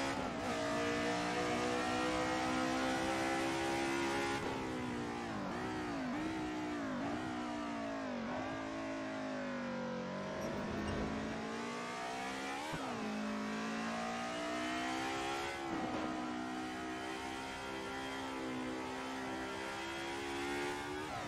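A race car engine in the Assetto Corsa racing game drones loud and continuous, rising and falling in pitch through gear changes, revs and a dip while braking for a corner, with no talk.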